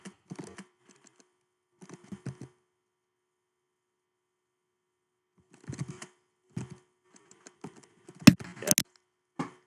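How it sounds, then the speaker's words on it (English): Keystrokes on a computer keyboard during a Dora Tanki Riichi mahjong live stream, coming in short clustered bursts of quiet clicks separated by pauses, with a louder flurry near the end over a faint background hum. "Sorry, just typing this on Discord again."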